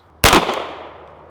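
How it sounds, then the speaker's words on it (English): A single sharp gunshot from a 300 Blackout short-barreled rifle or CZ Scorpion cracks loudly nearby, followed by a fading echo over about a second, with no voices. "I don't think I'd shoot without hearing protection for more than a few rounds"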